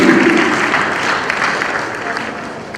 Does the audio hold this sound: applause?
yes